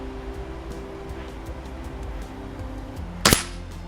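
Toy caps are struck by a pellet from a BSA R10 air rifle, giving a single sharp, loud crack near the end after a stretch of quiet low background hum.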